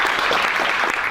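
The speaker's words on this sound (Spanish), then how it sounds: "Si me ayudáis, podemos hacer un gran aplauso a Christian Cassel." A lecture audience bursts into dense, continuous applause, many hands clapping at once in a loud, even wash that fills the short moment without pause.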